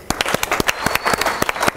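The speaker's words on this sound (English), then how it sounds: "Give him a round of applause." A seminar audience gives a volunteer a round of applause, the claps sharp and close, with a loose, uneven rhythm across the short burst.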